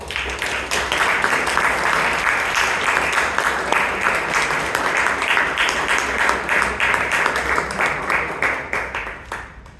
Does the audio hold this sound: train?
no